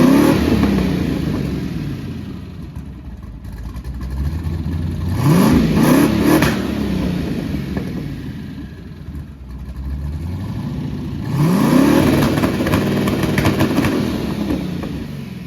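Nissan 240SX being readied for racing, engine running in cold weather and revved repeatedly: three rising revs over a steady idle, loud and close, with no talking.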